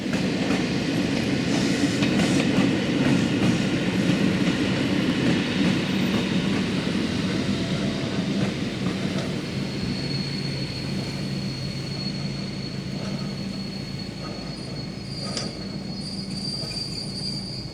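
A passenger train rolls past in a Polish setting, a loud steady rumble with squealing wheels and faint clickety-clack throughout, fading slightly toward the end, with no talk over it.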